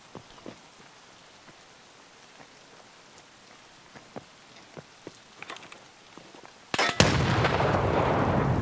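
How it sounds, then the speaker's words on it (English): A grenade goes off in a video game: after a quiet stretch of scattered small taps, a sudden loud blast erupts and gives way to a dense, roaring rumble that continues to the end. "Did that nade kill me? That nade killed you."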